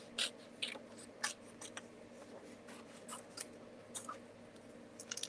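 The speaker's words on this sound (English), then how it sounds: "I'm going to cut out the other one" Scissors snip through paper while cutting out a paper flower bouquet shape for a handmade card, making short, quiet, close-up cuts in irregular bursts with no talking.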